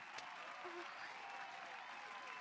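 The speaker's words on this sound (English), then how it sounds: "Clap harder! Clapping as hard as I can." Audience applause in the Detective Pikachu video game, a steady wash of clapping from a crowd lasting a couple of seconds at moderate level with no talk over it.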